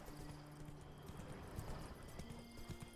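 Hooves of Roach, a horse in The Witcher 3, clip-clopping at a steady trotting rhythm, quiet and somewhat distant over soft ambient background.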